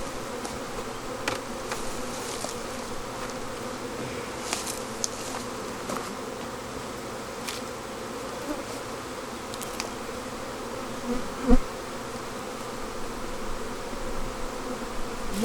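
Honeybees hum around hives being moved to a new location, a continuous buzzing drone with occasional louder passes of single bees flying close, outdoors and without talk.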